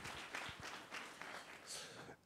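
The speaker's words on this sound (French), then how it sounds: "on peut les applaudir" Audience applause at a JobsTIC Tour 2023 jobs event, a brief burst of clapping that is fairly faint and distant, with a little murmuring underneath.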